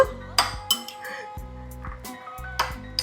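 A metal spoon clinks and scrapes against a bowl while a seasoned mixture is stirred and mashed, giving a quick series of sharp taps with brief dull pauses between them.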